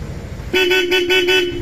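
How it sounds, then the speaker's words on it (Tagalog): Loud, close horn of a Kymco Xciting VS 400 scooter, one steady held blast with a slight pulsing, following a moment of low background noise. "Lakas ng busina ni Sir"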